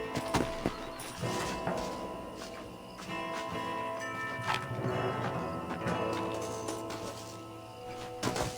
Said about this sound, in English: let me go ahead and lead the horse over here